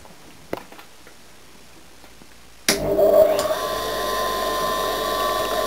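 An old electric lathe motor, just restored, starts up after a few seconds of near silence with a sharp onset, then runs at a steady, fairly loud hum and whir, with a faint knock just before it starts.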